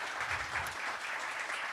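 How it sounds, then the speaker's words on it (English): Audience clapping after a keynote talk at a pub gathering, a faint steady patter of applause sustained across the short stretch. "How about a round of applause to start?"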